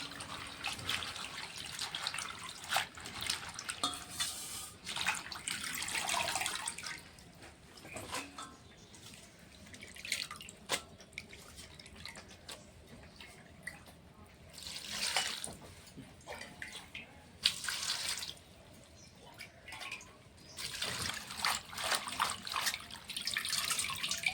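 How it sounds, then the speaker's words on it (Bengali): Spinach leaves being washed by hand under a running kitchen tap, with water splashing and gurgling in uneven bursts, swishing and dripping close by, fairly soft throughout. "পালং শাকটা বেছে নিয়েছি, এখন ধুয়ে নেব ভালো করে।"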